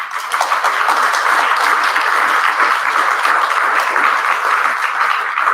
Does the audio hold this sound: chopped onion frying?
no